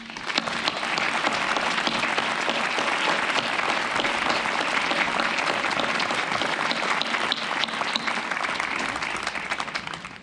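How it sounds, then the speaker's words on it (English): A school academic awards ceremony audience gives one last long round of applause for the honored students. The clapping is dense, even and sustained, loud and close, with little else heard. "please give one final round of applause for these phenomenal students"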